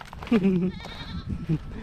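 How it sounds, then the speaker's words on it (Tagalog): Several goats bleat close by in short wavering calls, two or three cries in quick succession, with people talking around them. "Daming kambing."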